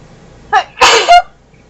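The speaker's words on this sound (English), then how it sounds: "Sneeze of confirmation." A single sneeze, close and loud, with a short catch of breath just before it and nothing after.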